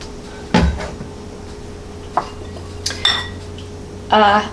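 Pumpkin cornbread ingredients, including sugar, mixed in a bowl: a few sharp utensil knocks and clinks against the dish, separated by quiet pauses, ending in a brief scraping rattle.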